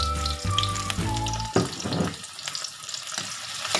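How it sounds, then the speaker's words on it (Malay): Spice paste stir-fried in a pan while cooking soup for Thai mee celup noodles, a steady close sizzle with scraping stirs, no talking. "Kita tumis sampai dia naik bau juga."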